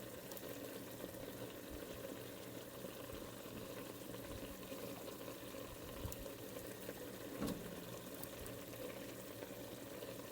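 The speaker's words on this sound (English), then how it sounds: "this is bubbling really good" Tomato sauce with tomato paste bubbles in a pot on the stove, a faint, steady, close simmering blip and pop that continues unbroken for about ten seconds.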